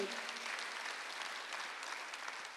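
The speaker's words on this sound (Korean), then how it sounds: "박수 한번 더 해주세요" A church congregation applauds during a Sunday worship service, a steady broadband wash of many hands clapping at moderate volume throughout, with no pauses.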